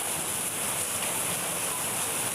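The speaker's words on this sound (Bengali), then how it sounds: "কেমন ধরনের বৃষ্টি হচ্ছে পানি একদম অনেক বৃষ্টি" Heavy rain falls in a village setting in Bangladesh as a dense, unbroken hiss, loud and close throughout, with no voices.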